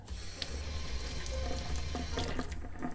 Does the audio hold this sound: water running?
yes